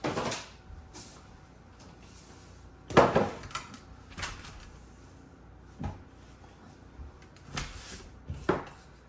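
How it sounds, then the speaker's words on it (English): A bannock baking pan fetched from a kitchen cupboard, with scattered knocks, a cabinet door clatter and metal pan handling spread across the clip against quiet room tone. "I'm going to get my Bannock pan."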